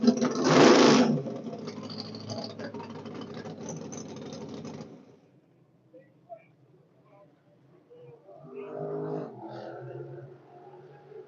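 A race car engine runs during a test day, giving a loud, rough mechanical roar that cuts off after a few seconds, followed by quieter background sounds and people talking.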